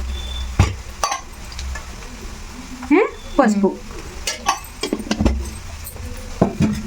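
Semiya upma ingredients with turmeric fry in a pan: a low sizzle broken by the clinks and scrapes of a utensil stirring against the metal, with a few louder knocks.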